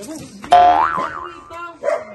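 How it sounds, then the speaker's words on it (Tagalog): A dog barks sharply nearby, with a loud yelping bark followed by a shorter second one a second later, and a voice is faintly present. "Ingay ng aso na to."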